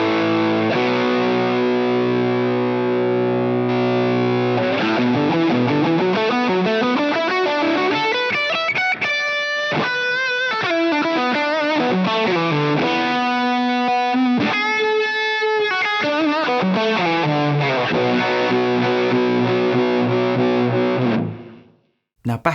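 Electric guitar played through a Line 6 Helix on a double-overdrive patch, loud and distorted, with sustained chords and riffs and some single-note runs, running continuously for about twenty seconds before stopping.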